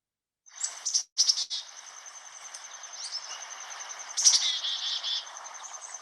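A black-capped chickadee calls in a short sequence of high, thin chirps and buzzy notes, clear and alone against silence.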